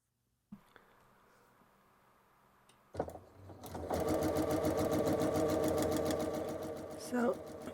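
A sewing machine chain pieces quilt blocks in a fast, even, loud whir after a few starting clicks and a brief run-up, stitching steadily to the end while a person talks.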